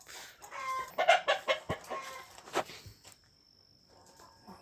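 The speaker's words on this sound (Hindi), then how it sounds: "अभी मुर्गे अच्छे से बोल रहे हैं।" Several village chickens in Africa cluck in a quick burst of short, overlapping calls, then fade to quiet with a thin high whine lingering.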